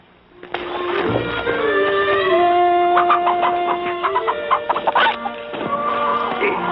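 Chickens clucking loudly and close in a frontier-era farmyard, a steady run of busy, overlapping calls with a crowing-like rise in the middle.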